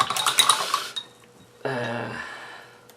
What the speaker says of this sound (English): Mix up with the spatula, I suppose.